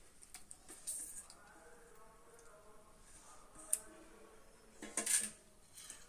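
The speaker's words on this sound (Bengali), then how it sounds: "এবার দেব চিংড়ি মাছগুলো।" Prawns and spice paste going into a metal tiffin box for Bengali chingri bhapa, with faint clicks and scraping clinks of utensil against metal, sparse and close, the loudest tap near the end, under soft background noise.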